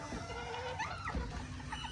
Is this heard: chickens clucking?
yes